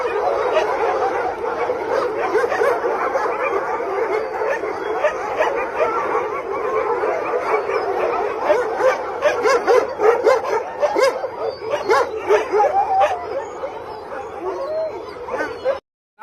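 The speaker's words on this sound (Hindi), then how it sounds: "वो कुत्ते भौंक रहे हैं" A pack of dogs barks and yips continuously at close range, overlapping excited barks with some whimpering, loud and sustained throughout with no talk.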